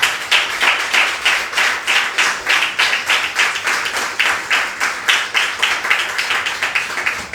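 A church congregation claps their hands together in a steady, brisk rhythm of roughly three beats per second. The clapping is loud, close and unbroken, with no talking over it.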